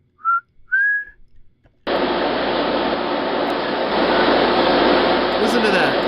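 A whistle sounds in two short, rising high-pitched bursts close up, then gives way to a loud, steady broadband rush like air or machinery that continues to the end.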